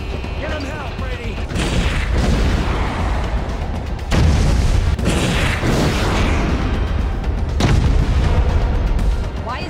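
Missile launcher firing in the game Homefront The Revolution, heavy booming blasts and rumbling explosions in repeated loud bursts, with battle noise throughout.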